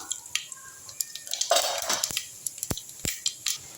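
Mustard and fennel seeds dropped into hot sesame oil in a pan, a series of sharp, close crackles and pops with a brief burst of sizzle in the middle, then scattered spitting.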